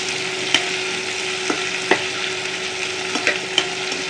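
A cup of onions frying in two tablespoons of oil in a pan, a bright steady sizzle broken by several sharp clanks as a spatula stirs and scrapes, close by and without speech.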